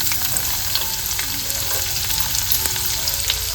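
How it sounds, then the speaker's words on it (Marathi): Onion frying in hot oil for a tempering in a home kitchen, a loud, close, continuous sizzle with crackling pops and no voices. "फोडणीसाठी कांदा घालते."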